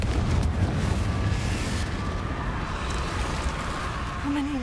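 Confringo spell explosion in Hogwarts Legacy, a rumbling fiery blast that opens loud and rolls on as a sustained roar with crackling debris.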